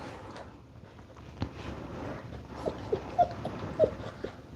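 A young puppy whimpers softly and lets out a few short, faint yips and whines against quiet room noise, with no talking.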